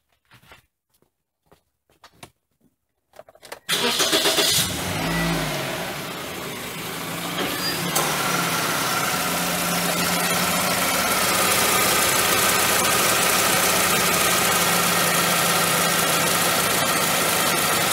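A car engine being started for an alternator check: quiet clicks first, then the engine cranks and catches with a loud surge and settles into a steady, close idle that runs on alone.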